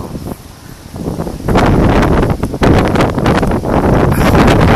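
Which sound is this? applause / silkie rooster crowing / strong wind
strong wind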